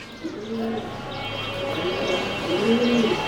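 Danish breed pigeons in a loft coo repeatedly in soft, low, rolling phrases, a few birds overlapping at close range, with faint chirps and steady background hum.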